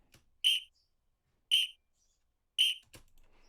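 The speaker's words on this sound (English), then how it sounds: "we just added more notes to the whistle" Whistle sound in an amapiano beat: three short, bright, identical whistle notes spaced about a second apart, clean and loud against near silence, with light percussive clicks between them.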